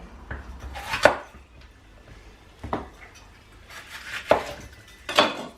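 A knife chops a capsicum on a board to top and tail it, giving a few sharp, separate thuds spaced out over several seconds, close and fairly loud, with faint clinks between.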